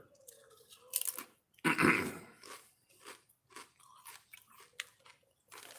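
Doritos chips being chewed close up, with loud crunchy bites followed by a series of softer, irregular crunches, no talking.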